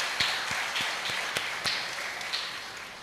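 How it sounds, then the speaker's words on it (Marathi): Audience clapping for the catering team at a Guru Purnima festival gathering, heard as a scattered run of separate hand claps, several people clapping loosely and unevenly over a steady room hum rather than a full burst of applause. "म्हणून त्या भोजन मंडळींबद्दल पुन्हा एकदा टाळ्या."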